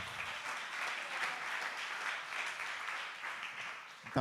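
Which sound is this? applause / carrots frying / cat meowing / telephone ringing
applause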